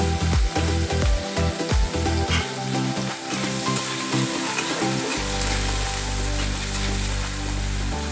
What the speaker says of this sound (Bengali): সবজিগুলো আমি হালকা করে ভেজে নেব